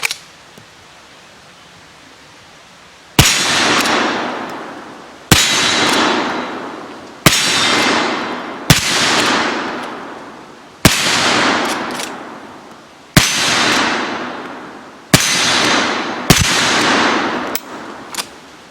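An Uberti 1860 Henry lever-action rifle fires eight loud shots at a steel spinning target about 25 yards downrange at an outdoor range, each sharp crack ringing out and decaying, spaced roughly two seconds apart, with no talking.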